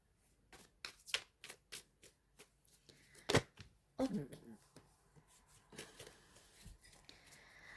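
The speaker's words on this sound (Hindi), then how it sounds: "मैं 3 कार्ड और लेना चाहती हूँ आपकी एनर्जीज को लेके" Tarot cards are handled during a reading: a steady run of crisp flicks and taps as cards are shuffled, then a heavier rustling draw, with scattered softer card sounds after and a voice speaking now and then.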